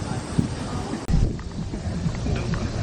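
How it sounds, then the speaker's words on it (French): Gusty wind buffets the microphone with a low rumbling roar, briefly dropping out then returning, while faint footsteps and rustling sit underneath. "je crois qu'il y a un peu de vent par contre"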